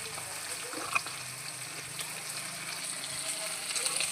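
Curry cooks in a pot on a home stove with a continuous light sizzle and bubbling hiss, plus a few faint clinks, and a soft voice may be faintly present in the background.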